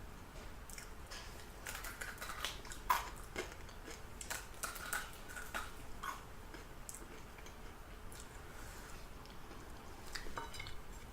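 Close, quiet crunching from someone chewing crispy fried chicken skin off the bones, with irregular crackly bites and soft clicks against a faint background hiss.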